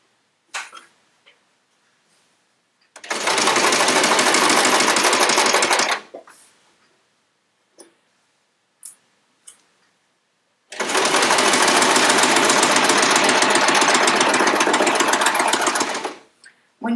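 A sewing machine stitching quilt pieces along a bias edge, running in two sustained loud whirring bursts of several seconds each, separated by quiet handling clicks and pauses.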